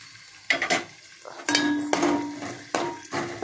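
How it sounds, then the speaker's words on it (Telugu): Onions hit hot oil in a pot on the stove, giving short sizzling bursts with stirring and clinks of the pan, loud and close, and quieter crackling between them. "ఇదిగోండి ఉల్లిపాయలు వేసేస్తున్నాను"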